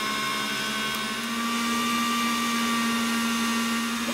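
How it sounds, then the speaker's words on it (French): A Kenwood Cooking Chef mixer whisks egg whites at maximum speed, giving a loud, steady motor whine and hum that holds constant throughout, close by and with no other sounds. "On met les blancs d'œufs. On met à vitesse max et on ajoute le sucre petit à petit."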